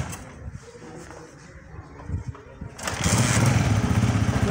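A motorcycle is kick-started, faint scuffs and clunks of the kick giving way to the engine catching and idling steadily and fairly loud in the last seconds.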